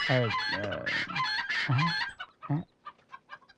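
A chicken squawks and clucks loudly up close in a burst of harsh, rapid cries, then settles into softer scattered clucks.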